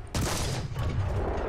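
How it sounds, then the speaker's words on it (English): Chi-To tank gun firing in War Thunder: one sharp, loud blast bursts in abruptly after a brief quiet moment, followed by a sustained booming rumble and a fainter second report, with no speech. "So we're going to fire off now"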